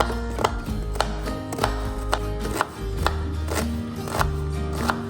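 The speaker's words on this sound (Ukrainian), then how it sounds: "Я нарізаю кубиком цибулю" A knife dices onion quickly and rhythmically on a cutting board, many sharp even taps in steady succession over a low background hum.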